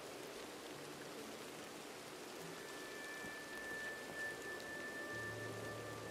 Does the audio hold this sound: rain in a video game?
yes